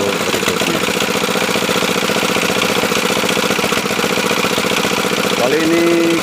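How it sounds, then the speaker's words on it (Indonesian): Engine of a water well drilling rig running at a site in Lampung Selatan, Indonesia, a loud steady pulsing drone with rhythmic knocking, and a tone shift near the end. "membuat sumur bor"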